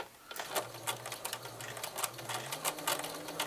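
A sewing machine runs steadily while reverse-stitching straight stitches on fabric for a produce bag, with a quick rhythmic needle clatter and a low motor hum throughout, close and fairly quiet.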